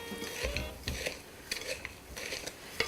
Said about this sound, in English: And then all you have to do is just mix everything all up.